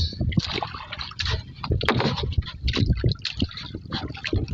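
Strong river current rushing along during fishing, a close, busy wash of gurgling and splashing water that churns irregularly with no speech over it.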